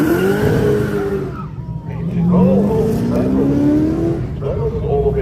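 A Porsche 914 sprint race car pulls away from the start line at the Leyburn Sprints, its engine revving and rising in pitch as it accelerates off, with a commentator talking over it.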